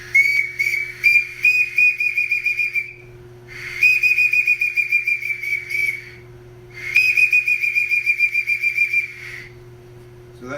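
A handheld whistle imitates a peewit bird's call in three long, high, slightly wavering blasts with short gaps between them, loud and close, with a low steady hum running underneath.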